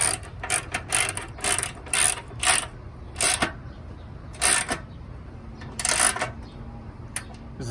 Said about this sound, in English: Probably gonna need a deep socket so you can get through the ball here.